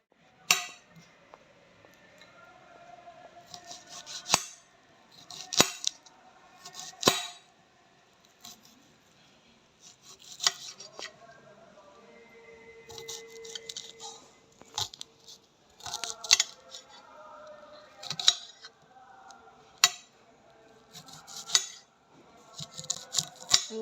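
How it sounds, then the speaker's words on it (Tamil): A knife chops two large onions for Jaffna-style prawn curry, sharp clicks of the blade on a cutting board arriving in irregular bursts and single knocks, close and fairly quiet with no voices. "பெரிய வெங்காயம். இதை வந்து இப்போ கட் பண்ணுவோம்."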